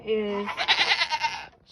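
A female goat bleats in a wavering, nasal cry close to the microphone, one sustained call lasting over a second after a brief tonal lead-in, heard on its own without talk.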